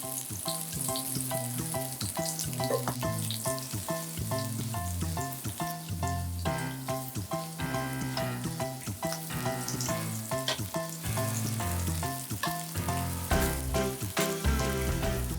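Potatoes brown in a hot frying pan, sizzling and crackling steadily with dense popping spatter throughout, close and fairly loud, with no talking.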